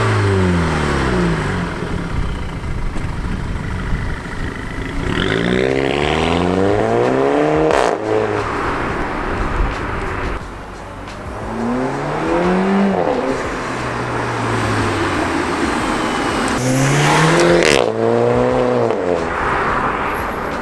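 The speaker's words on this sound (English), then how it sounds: "So in between gear changes, you get those DSG farts, depending on how much load you're giving it." An Audi A4 B8 with its resonator deleted accelerates hard through several gears, each rising engine pull broken by a sharp DSG shift crack, loud and close with repeated up-sweeping revs.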